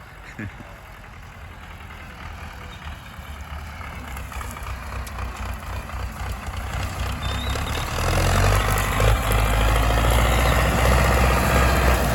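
A large MTZ tractor engine idles and rumbles steadily, growing louder and heavier toward the end, with faint high warning beeps and some voices.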